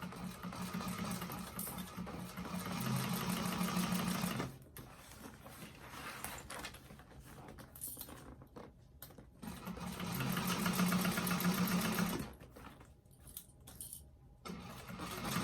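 A sewing machine stitches a zipper onto a bag in bursts of rapid, steady mechanical whirring, two runs of several seconds each broken by pauses with light handling clicks.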